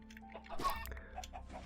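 Chickens cluck faintly in a Minecraft Better than Wolves mod chicken farm, a few short soft clucks and ticks over quiet background.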